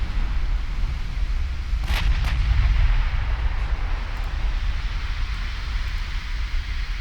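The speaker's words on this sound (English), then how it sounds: "Getting obliterated by an 8-inch shell there." A heavy 8-inch naval shell slams into a warship in Ultimate Admiral Dreadnoughts, a deep rumbling impact near the two-second mark over a constant low roar of battle noise, with no voices.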